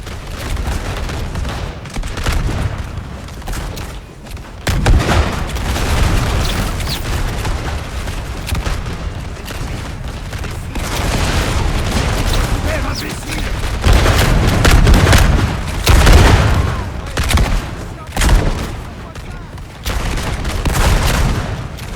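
Howitzer artillery and massed musket fire rumble through a Napoleonic-era multiplayer battle game, deep booms and crackling volleys rolling in waves, loud and close, with heavier surges around the middle and near the end.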